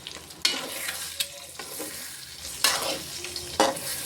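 Egg cooking in a pan for egg pasta, stirred gently with a ladle, several sharp scrapes and knocks over a steady sizzle, close and without speech.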